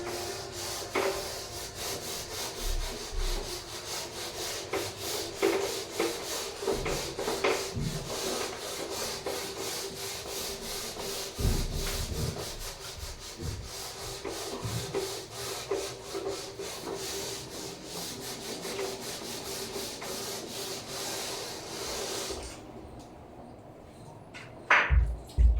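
A duster rubs writing off a classroom board in continuous brisk scrubbing strokes, near and fairly loud, for over twenty seconds before stopping, followed by a couple of soft knocks.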